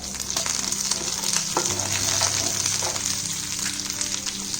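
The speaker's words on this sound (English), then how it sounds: "Into this, we'll add curry leaves or curry patta." Mustard seeds and curry leaves crackling in hot oil while preparing sooji appe, a loud steady sizzle with scattered pops and spits throughout, no talking.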